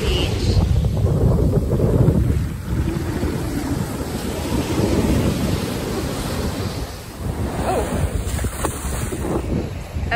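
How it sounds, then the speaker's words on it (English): Ocean waves wash onto the shore at Henderson Beach State Park at sunset, a continuous rushing surf heavily mixed with loud wind buffeting the microphone. "Sunset walk on the beach."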